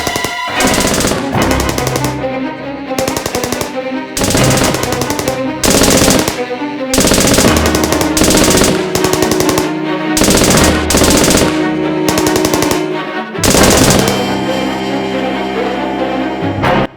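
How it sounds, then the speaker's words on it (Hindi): Rapid bursts of automatic gunfire ring out repeatedly, loud and close, with short gaps between volleys. "ये गोली चलाने की आवाज कहां से आ रही है?"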